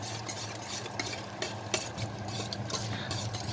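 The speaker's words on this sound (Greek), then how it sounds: "Το έχω κόψει σε μικρά κομμάτια και θα ανακατέψω μέχρι να μην βλέπω το βούτυρο" A spoon stirs chopped cold butter into a warm mixture in a pan, with a soft continuous scraping swirl and a faint sizzle underneath, close and fairly quiet.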